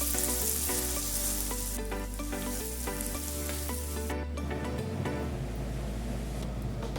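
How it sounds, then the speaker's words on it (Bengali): Onion pieces frying in mustard oil in a pan, a steady, close sizzle with crackling and occasional stirring scrapes, no voices. "পেঁয়াজটা ভাজা ভাজা হয়ে গেছে"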